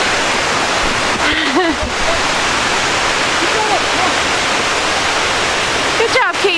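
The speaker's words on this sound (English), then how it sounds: "You can see the waterfall." A waterfall roars as a loud, continuous broadband rush right beside the listener, with brief voices speaking over it.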